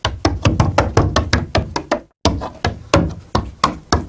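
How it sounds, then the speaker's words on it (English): Foley for goblin claws performed with banjo picks: a rapid series of sharp clicking taps in uneven bursts, close and distinct, with a brief pause midway before the clicking resumes. "Goblin claws."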